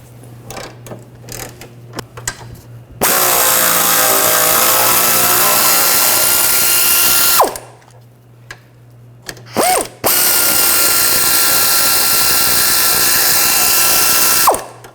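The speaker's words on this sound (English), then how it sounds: "Using a 10mm socket, we're going to take these two bolts out" A ratchet with a 10mm socket works bolts loose on a Ford Escape during a front lower control arm replacement. Two long, loud bursts of fast clicking sound up close, separated by a few shorter clicks and handling noises, with no talk.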